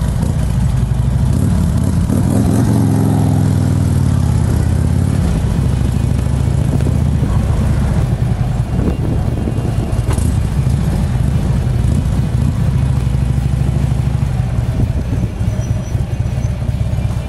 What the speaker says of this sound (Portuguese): Escapamento Vansenheim, coisa linda